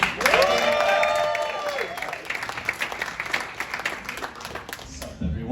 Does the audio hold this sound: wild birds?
no